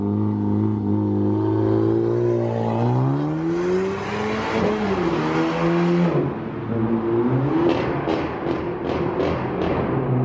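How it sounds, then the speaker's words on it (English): An Audi revs hard through a highway tunnel on Angeles Crest Highway. The loud, echoing engine note climbs and falls in repeated sweeps, ending in a quick series of sharp exhaust pops, with no talking. "I'm gonna have someone capture footage of my car going through the tunnel."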